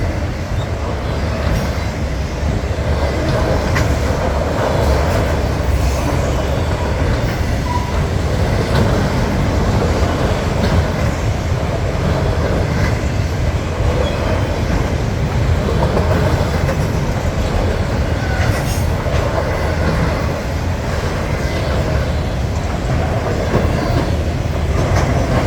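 Norfolk Southern locomotive 8171 pulling a train past at sunset, a steady loud rumble of rolling railcars with rhythmic clickety-clack of wheels over rail joints, sustained and close throughout.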